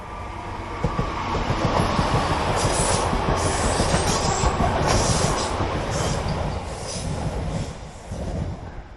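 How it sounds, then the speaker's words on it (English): A local commuter train bound for Blackpool, on a line between Horwich and Bolton, passes close by with a steady, loud rumble and wheel clatter that fills the whole stretch, then eases slightly near the end. No talking. "it's a local commuter train, that's most probably going to Blackpool."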